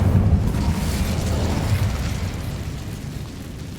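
An Incendio fire spell cast in Hogwarts Legacy, a loud whooshing burst of flame that opens strongly and rumbles on, slowly fading over a few seconds, with no talk.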